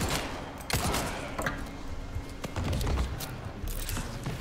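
Shotgun fire in Resident Evil 4 Remake comes through as several sharp, loud blasts at irregular intervals over a low rumbling game background, with thuds between shots.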